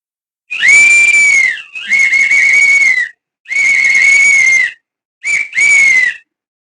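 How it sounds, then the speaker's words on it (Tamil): A shrill, steady toy whistle blown loudly in four separate blasts, each held for about a second, with short gaps between them. "சூப்பரான ஒரு விசில் கிடைச்சிருக்கு"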